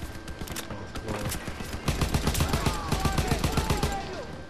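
A gun in Call of Duty WWII fires in rapid, sustained automatic bursts, loud and close, and the fire grows denser midway amid other battle noise, with a voice faintly under it.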